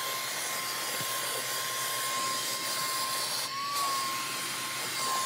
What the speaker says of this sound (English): let's go ahead and see the power of this vacuum cleaner to remove those hair